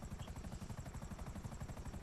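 Helicopter rotors in a GTA 5 Online race chop with a fast, steady pulse, faint and continuous under a low engine drone, with no talk.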